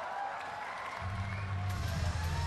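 A crowd of over 50,000 at the Cebu Sports Complex boxing event, with a broad distant murmur that swells into louder cheering and a low rumbling hum as the teams enter the ring.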